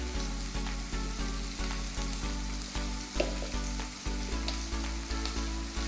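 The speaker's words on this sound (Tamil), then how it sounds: "இந்த கேப்சிகமை நல்லா வதக்கிக்கலாம்" Capsicum sautéing with salt in a pan, a steady sizzle broken by regular rhythmic stirring strokes, with a low steady hum underneath and no speech.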